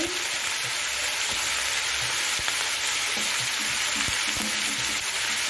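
Basella stalks, pointed gourd and ridge gourd frying together in a pan for chechki give a continuous loud sizzle, with scattered scraping taps of stirring throughout and no voices.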